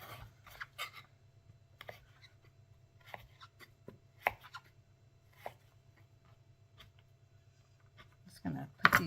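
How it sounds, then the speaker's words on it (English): A knife chops carrots into small pieces on a board, producing sparse, irregular close taps and cuts over a low steady hum, with no talking. "So I'm going to try to cut these carrots up as kind of as small as I can go with them"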